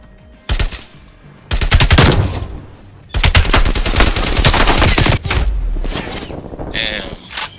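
Rapid bursts of AK-47 automatic fire in Call of Duty: Black Ops Cold War, loud and close, arriving in several long sprays with brief gaps, while players talk over the shooting.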